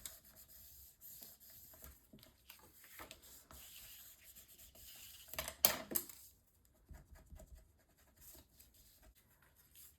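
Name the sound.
burnishing a paper flap down on a mini album page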